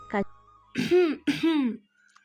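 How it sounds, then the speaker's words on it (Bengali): A person coughs or clears their throat in a quiet room during a romantic audio story: a brief throat sound, then two longer, harsh coughing bursts close to the listener, followed by silence. "হঠাৎ কারোর কাশির শব্দে ঘোর কাটল তাদের"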